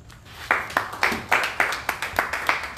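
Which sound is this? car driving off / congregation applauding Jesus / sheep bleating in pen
congregation applauding Jesus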